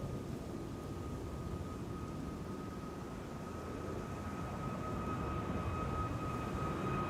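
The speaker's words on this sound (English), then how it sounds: "in the background the 777-200 to LAX" A Boeing 777-200 at Amsterdam Schiphol Airport rumbles at a distance as a low, steady engine drone that slowly swells, with a faint whine above it and no speech.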